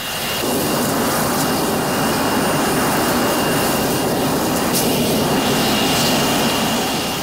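A jet aircraft engine runs steadily at close range in freezing Arctic conditions in Alaska, a loud continuous roar with a high whine that holds constant throughout, with no voices over it.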